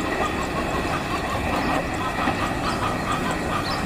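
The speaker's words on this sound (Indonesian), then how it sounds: "Masih dapat kereta api Kertajaya yang melintas" A Kertajaya long-distance passenger train passes in Indonesia, rumbling and clattering steadily, a continuous roar of wheels on rails close by with no talk.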